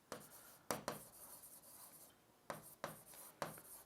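A word is written on a board in several short, scratchy strokes, each a quick rubbing burst with pauses between, close and fairly quiet.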